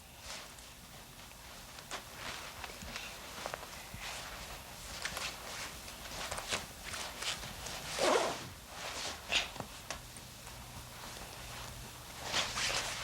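A zipper on clothing being done up in a children's television scene, with short rasping pulls scattered across a quiet room and a slightly stronger pull near the middle.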